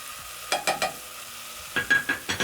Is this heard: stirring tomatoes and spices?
yes